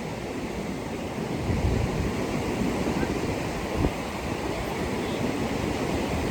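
Waves wash onto a beach in a constant, close surf rush mixed with wind noise, with one brief louder swell.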